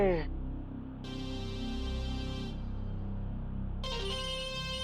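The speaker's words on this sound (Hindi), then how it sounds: "सुबह सुबह किसका फोन आ गया?" A phone ringtone rings indoors in a Hindi TV drama scene, playing repeated melodic tones that pause and then start again, loud and close over a low background hum.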